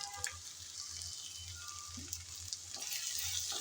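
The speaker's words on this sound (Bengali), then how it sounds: "সবগুলো উপকরণ দিয়ে আবারও ভালোভাবে একটু কষিয়ে নিতে হবে।" Hog plum chutney ingredients with a little turmeric, chili and salt fry in a pan, giving a steady soft sizzle with faint stirring scrapes throughout.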